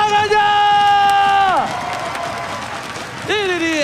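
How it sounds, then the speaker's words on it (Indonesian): A crowd cheers and applauds steadily at the MPL Indonesia Season 10 playoff esports match between RRQ Hoshi and ONIC, while loud sustained tones rise and fall over the noise. "mana tepuk tangannya?"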